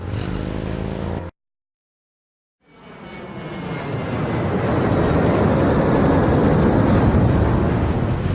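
An airplane in the Gabriel Knight video game, first a short burst of engine noise, then a pause, then a jet roar that swells into a loud, steady drone.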